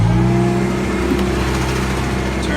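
A sprayer's loud engine runs at steady high revs on hand throttle, a constant droning hum that holds throughout without letting up.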